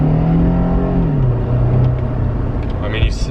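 A car in race mode, fitted with a Wind Booster throttle controller, accelerates hard as a steady loud engine drone rises in pitch and then settles, with brief voice sounds near the end.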